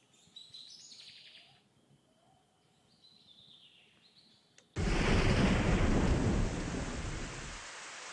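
A loud thunderstorm breaks in suddenly with heavy, roaring rain and a thunder rumble, following a quieter stretch of scattered bird chirps; the downpour stays dense and steady to the end.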